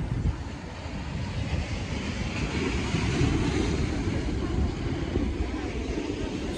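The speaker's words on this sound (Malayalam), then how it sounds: "ശരിക്ക് വലിയ തിരമാലകൾ വരുന്ന ഒരു പ്രത്യേക സ്ഥലം" Big ocean waves at Kozhikode beach give a steady, unbroken roar of surf mixed with wind buffeting the microphone, loud and continuous throughout.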